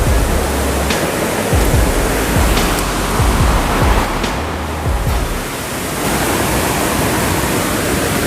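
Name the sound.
rushing water near Curug Paniis waterfall, Pandeglang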